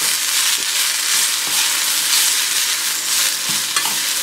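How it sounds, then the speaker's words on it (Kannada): Chopped Malabar spinach fries in hot ghee with cumin and pepper, giving a loud, continuous sizzle broken by occasional scrapes and taps of a spatula stirring the pan, close up and without talk. "ಸೊಪ್ಪೆಲ್ಲ ಸ್ವಲ್ಪ ಬಾಡೋ ತನಕ ಹುರಿಯಿರಿ"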